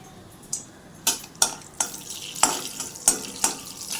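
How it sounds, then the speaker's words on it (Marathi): Cashews shallow-fry in oil in a kadai. A soft sizzle runs beneath a series of sharp metal taps and scrapes from a ladle stirring against the pan, about eight distinct strikes spread unevenly across the moment. "त्यानंतर मी दुसऱ्या कढईमध्ये तेल टाकून थोडेसे काजू शाडो फ्राय करून घेत आहे"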